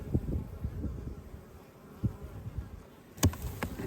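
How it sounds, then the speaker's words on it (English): Honeybees drone steadily inside a winter hive in South Alabama, heard close up with scattered louder buzzes and thumps from bees and handling noise. "Looks like there's bees all in here."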